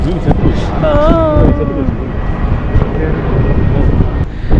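IndiGo airliner passing overhead near the Adyar park and river in Chennai, a loud continuous roar and whine filling the clip with outdoor wind noise.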